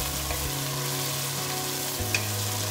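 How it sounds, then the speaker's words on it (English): Onions for Hyderabadi-style mutton biryani fry in hot oil with a steady, dense sizzle and faint occasional pops, close and continuous. "Let's burn our onions also."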